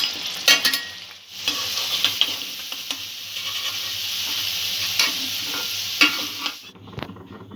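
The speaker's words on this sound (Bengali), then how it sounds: "আলুটা একটু ভেজে নেব।" Potatoes frying in a pan for a Bengali vegetarian chhana bora curry give a steady, close hiss and sizzle with occasional stirring scrapes, and nobody speaks.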